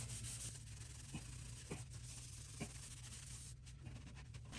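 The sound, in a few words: scrubbing a toilet flange clean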